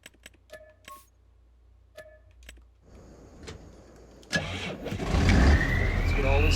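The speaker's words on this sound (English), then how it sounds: "send the tractor." A tractor in a farming video game cranks and starts: a few scattered clicks and taps, then a rising mechanical whir, then the engine catching into a loud, broad rumble that keeps building.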